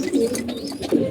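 Pigeons coo near a home pigeon loft, several soft throaty coos rising and falling in quick succession, close and fairly clear with a faint background hum.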